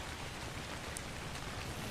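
Steady rain falls in the survival game ARK Survival Ascended as a soft, even hiss with faint patter and no distinct drops or talk.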